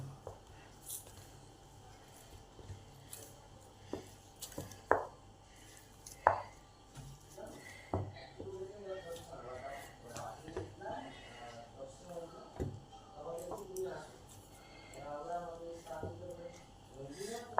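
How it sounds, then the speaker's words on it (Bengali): Flour dough for sweet palm paratha being kneaded by hand, soft squishy presses and slaps at an uneven rhythm, close and fairly quiet, with a few sharper knocks against the surface and a voice talking over parts of it. "আটাটা আমার ভালোভাবে থাসা হয়ে গেছে দু মিনিট ধরে থেসেছি"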